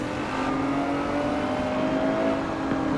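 Ferrari SUV engine in Forza Horizon 4 revving steadily in third gear during a street race, a loud continuous droning roar with a sustained engine tone and no pauses or talk.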